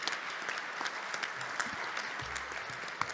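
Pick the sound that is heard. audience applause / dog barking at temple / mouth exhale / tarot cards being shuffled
audience applause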